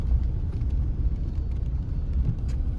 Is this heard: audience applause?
no